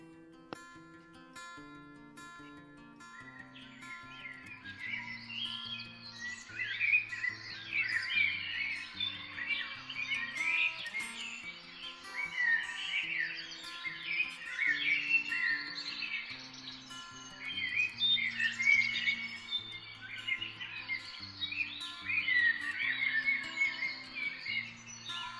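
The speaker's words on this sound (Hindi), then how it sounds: "हम पक्षियों की बहुत ही मधुर वाणी, बहुत ही सुंदर आवाज़ सुनते हैं" Birds chirp and sing in a lively, overlapping chorus, bright repeated trills and tweets carrying on for a long stretch over a soft melodic tone in the background, with no voices.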